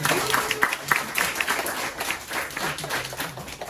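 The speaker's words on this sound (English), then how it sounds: "please give him a round of applause" Audience applause at a Toastmasters club chapter meeting, a fairly faint, steady patter of hand claps from a small group in a room, continuing without a break for a few seconds.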